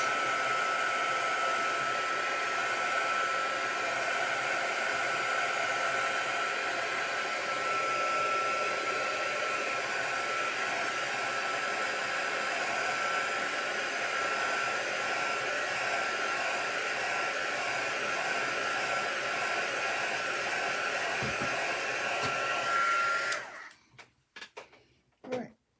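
A heat tool blasts hot air steadily over painted craft elements for a long stretch, a loud constant whoosh and whine that cuts off near the end.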